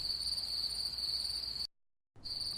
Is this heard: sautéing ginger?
no